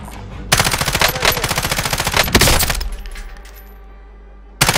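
Loud, close rapid automatic gunfire in a video game, sustained bursts of fast shots for a couple of seconds, tapering into quieter fire, then a fresh burst starting right at the end.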